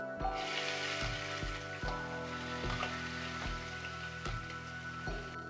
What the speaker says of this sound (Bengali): আমি একই তেলের মধ্যে নারকেল ভেজে নেব